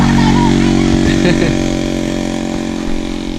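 A motorcycle engine runs loud and close with a steady buzzing drone, gradually easing off as it moves away on a rural outing gathering wild mushrooms.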